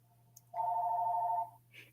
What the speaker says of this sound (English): I know y'all hear that phone ringing